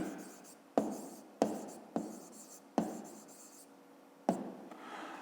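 A pen writes on paper during a fifth-grade maths exercise, giving five sharp taps spaced across the stretch, each followed by a short scratchy stroke, faint and close by.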